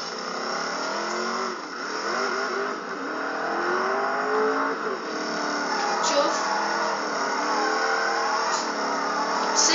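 A Ford car drifting in the video game Driver San Francisco, its engine revving and droning steadily throughout, with tire noise in the mix and someone talking over it.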